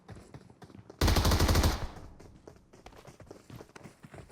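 A loud machine-gun burst of about a second in the PUBG Mobile video game, fired at a roof. Rapid shots are followed by quieter scattered clatter and footsteps.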